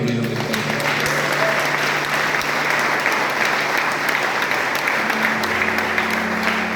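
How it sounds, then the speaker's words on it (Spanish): A church congregation claps loudly and continuously, a dense even roar of hands with a held organ or keyboard tone underneath, some voices faintly mixed in. "Alguien que le aplauda al Señor."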